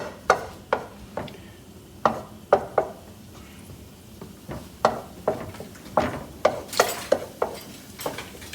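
A spoon scrapes and knocks around a pot of homemade tomato sauce in a steady series of sharp, close clacks that come in quick bursts, with a soft simmer underneath.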